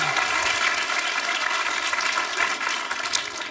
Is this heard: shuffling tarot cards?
no